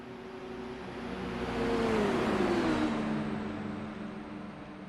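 A Dallara DW12 IndyCar engine racing at Indy in a video game, a loud whining engine note that swells as the car approaches and passes, pitch sliding downward as it fades, with no talk.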